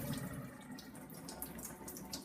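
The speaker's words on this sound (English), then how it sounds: "it'll act like a rain simulator in the aquarium I'm gonna buy" Water trickles and drips steadily through a homemade rain simulator over an aquarium, a continuous close splashing patter with no talking.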